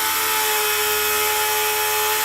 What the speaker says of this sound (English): You just run the buffer